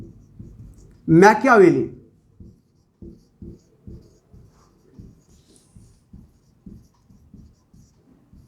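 Rhythmic tapping and scratching of writing on a board repeats steadily in short strokes, fairly soft and close, after a brief spoken word at the start.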